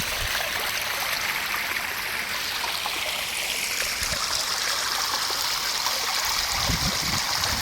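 Irrigation water rushes and trickles steadily over a farm field without pause, a continuous close flowing wash with faint low gurgles near the end.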